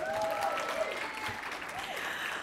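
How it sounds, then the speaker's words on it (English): Applause from a conference audience at an international LGBTQ leaders panel, a steady wash of clapping throughout, with a faint tonal sound and brief voices mixed underneath. "Yeah, you can clap for that."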